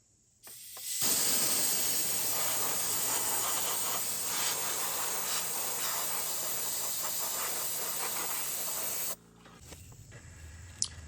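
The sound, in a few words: air blowing debris off tractor engine before removing glow plugs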